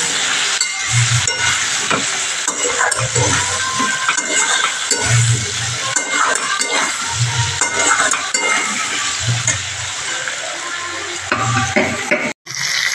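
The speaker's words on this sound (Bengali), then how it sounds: "আলুটা আমি একটু লাল লাল করে ভালো করে ভেজে নেব" Potatoes stirred and fried in a pan sizzle loudly and steadily, with repeated rhythmic scraping strokes of a utensil against the pan and a brief clunk near the end, no talk.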